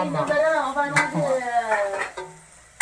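Rasam stirred in a home cooking pot, with light scraping and clinks of a utensil against the metal under steady, lively talk and a short laugh.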